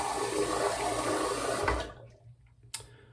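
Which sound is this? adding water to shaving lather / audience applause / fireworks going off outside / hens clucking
adding water to shaving lather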